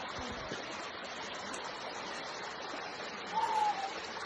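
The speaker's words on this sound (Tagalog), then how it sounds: "So, yun ngayon dito tayo sa sapa." A creek flowing steadily in a constant soft rush, fairly quiet and even throughout, with a faint brief tone near the end.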